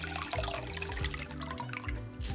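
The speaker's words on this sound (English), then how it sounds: "Let's squeeze it so the water comes out." Water runs out of a soggy object squeezed by hand during a sink-or-float experiment, a steady trickling splash heard up close with no one talking.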